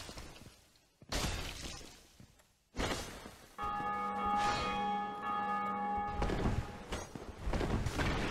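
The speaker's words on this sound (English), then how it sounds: "Do you hear those church bells?" Church bells toll in Dark Souls Remastered, a sustained ringing with steady tones that rises after sharp crashing bursts, loud and continuing for several seconds with no voices.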